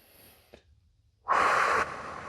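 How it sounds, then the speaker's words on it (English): One deep breath in through the nose is heard faintly at first, followed after a short quiet gap by a louder, close, breathy exhale through the mouth that trails off. "Take a big deep breath in through the nose,"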